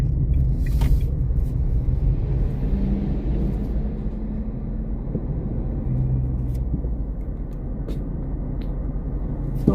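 Steady low road rumble of city traffic in Aracaju, heard from inside a car with a truck pulling up close behind, continuous and fairly loud throughout.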